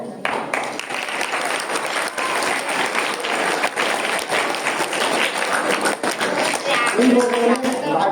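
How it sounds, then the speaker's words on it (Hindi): Audience applause at a gathering with Swami Samananda Giri Ji at VKV Tinsukia, steady dense clapping from a crowd filling the whole stretch, with a voice briefly audible near the end. "तालियां, इसके ताली बजाओ।"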